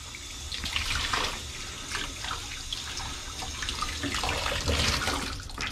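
Cold tap water runs and splashes steadily while a litho stone is rinsed after etching with gum arabic. The flow is continuous and close, with shifting splashes and no speech.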